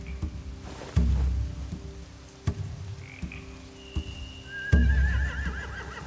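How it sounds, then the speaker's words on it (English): Horses neigh and snort amid ambience in The Walking Dead: The Telltale Definitive Series video game, with hoof thuds and a high whinny near the end; a steady low background underneath. "They have horses."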